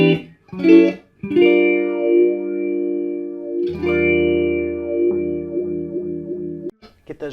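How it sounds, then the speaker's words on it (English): An electric guitar through a Positive Grid Spark amp plays phrases and sustained chords swirling with a watery, sweeping modulation effect, loud and alone with a few short stabs at the end. "Get those really watery, trippy kind of tones."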